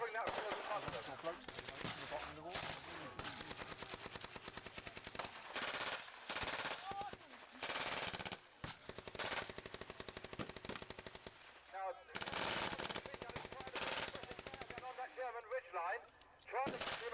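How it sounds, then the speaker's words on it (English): Machine guns rattle at a WW2 battle reenactment, with long loud bursts of rapid automatic fire broken by brief pauses, including German machine guns covering a bunker. "There are at least 3 German machine guns covering that further bunker."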